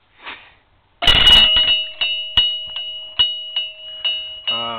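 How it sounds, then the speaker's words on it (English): An old antique Craftsman mechanical doorbell rings: a loud initial clang followed by a series of repeated metallic rings, each decaying, with a short rattle at the end. "But this is my doorbell."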